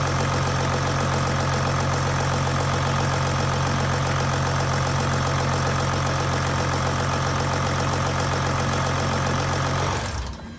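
A Mercedes OM642 diesel engine idling with a steady, loud, even clatter and hum that continues unchanged for about ten seconds before the engine is shut off and the sound dies away.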